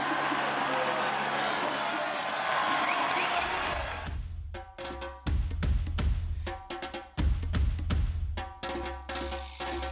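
A French crowd cheers and applauds at the podium of the elite men's road race at the 2025 UEC Road European Championships, a loud roar that fills the first few seconds before a commentator's voice takes over.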